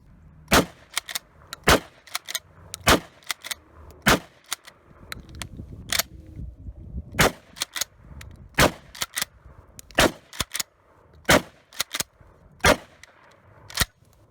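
A Mossberg 590M shotgun loaded with Winchester shells fires a long run of sharp, sudden blasts, about twenty in quick, fairly even succession, each cracking out over a quiet outdoor background.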